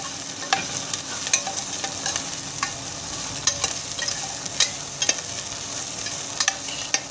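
Seven or eight garlic cloves sautéing in hot oil in a pan for a rice and lentil dish, with a steady sizzle and repeated scraping stirs of a spoon, close and alone.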